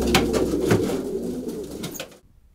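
Racing pigeons in a loft cooing close by, soft repeated throaty coos over a low murmur, fading out abruptly at the end.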